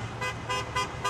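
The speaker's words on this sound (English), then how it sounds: "They're honking on my side, too." Car horns honking in a repeated pattern, four short toots in quick succession heard from inside a car ride, with steady road noise beneath.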